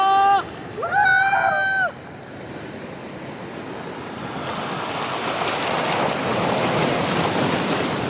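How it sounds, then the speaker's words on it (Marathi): Ocean waves at a Konkan beach: a broad roaring wash of surf that swells louder toward the end, after brief voices near the start. "इकडे बघा लाटा"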